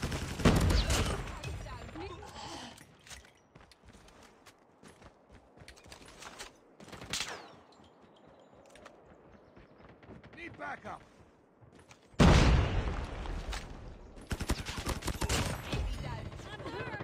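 Bursts of rapid automatic fire from a Bizon submachine gun in Call of Duty Mobile, loud volleys at the start and again near the end with quieter scattered shots, mechanical clicks and someone talking excitedly in between.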